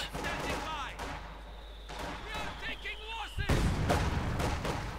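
Mortar fire in the Company of Heroes 2 strategy game: a dense bed of battle noise with scattered sharp reports, then a heavy, loud broadband blast near the end that rolls on to the close.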